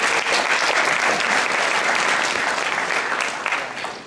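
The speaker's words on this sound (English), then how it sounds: "Round of applause," Dense, sustained audience applause at a professional development day, loud and even for several seconds before tapering off slightly at the end.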